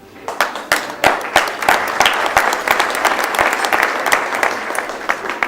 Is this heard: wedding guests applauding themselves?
yes